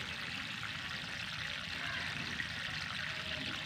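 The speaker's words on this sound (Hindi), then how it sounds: "बहुत ज़्यादा पानी देना है, ताकि सारी मिट्टी एक मर्तबा नम हो जाए, गीली हो जाए" Water poured generously onto the soil around a newly transplanted chilli seedling, a steady continuous splashing and trickling that runs the whole time at moderate, close level with no talking.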